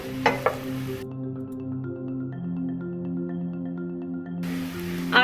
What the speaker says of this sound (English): You can hear that sizzle going.